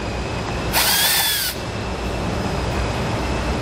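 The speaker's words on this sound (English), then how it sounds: "I'll go ahead and get it started so it's a little bit easier. Now we can back it out." A power driver runs a self-tapping screw during a wiring kit install on a 2020 Ford, giving a brief loud whirring burst of under a second with a rising whine, against a steady background hum.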